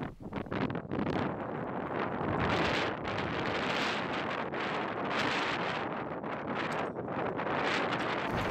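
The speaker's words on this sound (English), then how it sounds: "Since it was a strong breeze," A strong breeze at a sailing anchorage near Gallows Point, Beaumaris, Wales, gusting in a steady, fluctuating roar of wind noise that buffets the microphone throughout.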